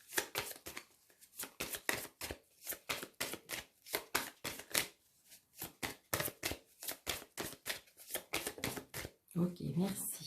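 Tarot cards are shuffled for a reading: a quick, rhythmic series of crisp riffling snaps, close and fairly faint, with someone speaking softly near the end.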